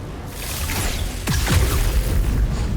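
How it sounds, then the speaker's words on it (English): An explosion goes off in the video game Baldur's Gate 3, a deep boom with a whooshing rush that swells and holds loud through the rest of the moment. "If I did this, that will cause an explosion to actually damage the guy"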